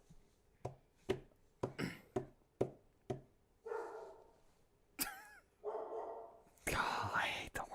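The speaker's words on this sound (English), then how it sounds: "Sam walked too far away and the dog started barking" A dog barks in a run of sharp, evenly spaced barks, then gives louder, more ragged yelps and barks close by, with faint voices in the background.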